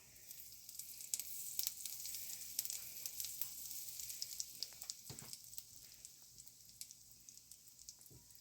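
Cumin seeds sizzle in hot oil in a pan with a faint, steady crackling hiss broken by scattered small pops, with no voices over it.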